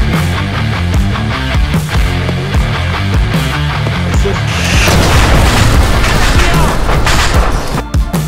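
A grenade explodes during an Arma 3 combined-arms battle, a loud booming blast swelling midway through a dense, continuous stretch of rumbling gunfire and battlefield noise with no clear talk.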